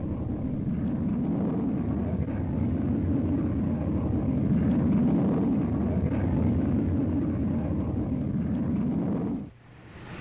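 A 1950s jet fighter capable of over 1,000 miles per hour roars steadily in flight for several seconds, a loud, continuous broadband rumble on an old military film soundtrack that cuts off abruptly near the end.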